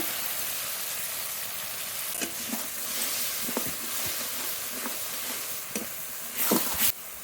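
Masala spice paste sautés with added water in a pan for fish curry, a dense continuous sizzle and hiss with scattered stirring scrapes, swelling into a loud burst of spitting near the end.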